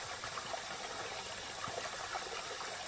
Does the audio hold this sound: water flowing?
yes